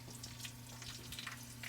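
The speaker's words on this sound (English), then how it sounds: "Listen to them sizzle." Roasted bone marrow bones just pulled from the oven, sizzling steadily at close range, with crackling pops and spits over a faint low hum, no talking.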